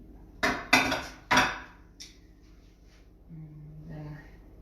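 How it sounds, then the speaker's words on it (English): A spoon stirs a very hot mixture into almond flour for keto gingerbread, making a few sharp knocks and scrapes against the bowl up close, followed by quieter rustling and a brief voice. "Then stir a little bit."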